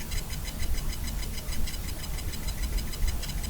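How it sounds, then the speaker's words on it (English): Quest 3 controllers with rechargeable batteries sit on a BOBOVR D3 charging dock, producing a rapid, regular ticking that repeats evenly throughout over a noisy background hum, with no speech. "when I place the controllers on the charging pads, I can hear a ticking sound"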